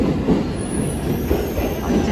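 Loud rumbling of trains rolling through Takasaki station, with steady wheel noise and a high metallic squeal running throughout.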